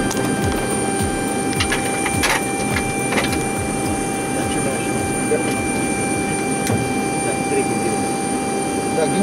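A Tu-154M airliner on the ground during engine start-up, with a loud steady whine and rumbling tones filling the cabin while people talk intermittently.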